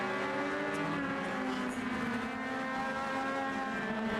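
Legends race cars circle a track during a night race, their engines blending into a faint, continuous droning whine heard from a distance.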